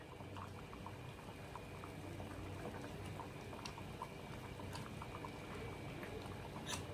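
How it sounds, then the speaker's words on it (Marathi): A pot of chana dal and spinach curry at a rolling boil, dense continuous bubbling and popping close by, with no talk. "छान अशा मोठ्या मोठ्या उकळ्या काढल्या तर आपण यामध्ये सांबार टाकू"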